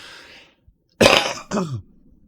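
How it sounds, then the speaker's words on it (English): Two short, harsh coughs close to the microphone, the first louder and longer, followed by quiet. "I should have muted, but I had to cough."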